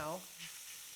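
Mushrooms cooking down in a hot pan give a steady, close sizzle of frying, with a short burst of voice at the very start.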